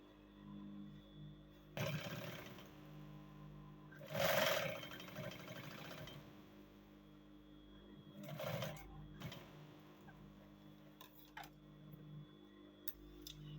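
A sewing machine stitches the crotch seams of cargo pants, running in several short bursts of fast mechanical whirring and ticking separated by quieter pauses, close and moderately loud.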